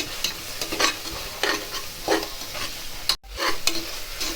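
Ginger-garlic paste frying with poppy seeds and fennel in a pan, a steady sizzle broken by scraping stirs every half second or so, close up with no talk.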